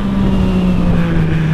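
A loud, close engine drones steadily with a rising pitch, like a motorcycle being revved.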